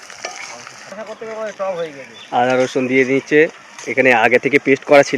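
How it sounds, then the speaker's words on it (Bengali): A constant frying sizzle and scraping from spices, with ginger and garlic, being sautéed with a spatula sits beneath someone speaking steadily throughout. "সব মশলা কষে নিচ্ছে খুন্তি দিয়ে।"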